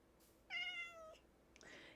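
Cat meowing in Minecraft Java 1.21.5, one clear drawn-out meow with a falling tail, followed by a shorter, softer mew, close and alone over a quiet background.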